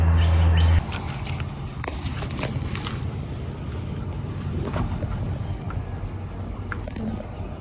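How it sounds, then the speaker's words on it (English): Loud, shrill insects at a campsite fill the air with a constant high-pitched drone, close and unbroken throughout, with faint scuffs and handling noises beneath. "Piercing, ear-piercing bugs."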